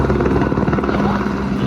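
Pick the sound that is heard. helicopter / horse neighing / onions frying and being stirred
helicopter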